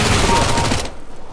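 MAC-10 submachine gun fired in Counter-Strike: Global Offensive, a loud rapid burst of close shots in quick succession that cuts off abruptly, leaving a brief fading tail.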